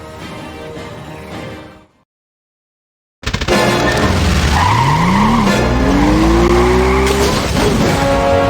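A vehicle in Deponia that pulls away with skidding after a short silence: a loud revving engine climbs steadily in pitch while tires squeal, after an earlier stretch of game sound.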